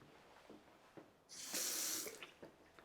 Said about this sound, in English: Normal running hot and cold water